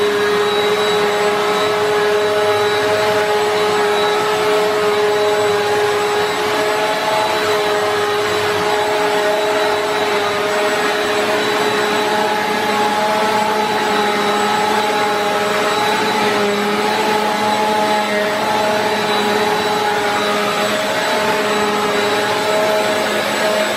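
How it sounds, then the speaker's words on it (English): A BISSELL PowerForce Turbo 2690 upright vacuum cleaner runs continuously on a floor, a loud steady motor whine with a sustained high-pitched tone and airy rush, close and unbroken for the whole stretch. "So let's go ahead and give it a test run, and also listen to the noise level."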